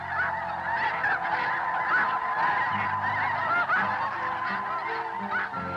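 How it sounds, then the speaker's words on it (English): A flock of snow geese honks continuously, many overlapping nasal calls forming a dense, steady chorus from migrating birds leaving Gulf of Mexico wintering grounds. "flocks of snow geese are leaving their wintering grounds near the Gulf of Mexico"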